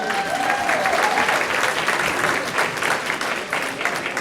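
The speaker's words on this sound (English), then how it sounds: "So let's give them a nice round of applause." A banquet audience at a bowling association event claps together in a steady, moderately loud burst of applause, with a few voices murmuring underneath.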